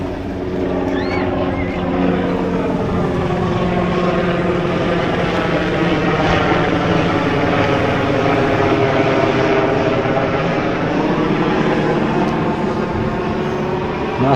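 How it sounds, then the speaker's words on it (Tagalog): A helicopter passes over a beach resort on Mactan, Cebu, its steady droning engine hum holding loud and even for the whole stretch, with no talk over it. "Helicopter."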